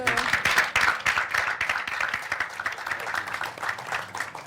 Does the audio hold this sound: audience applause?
yes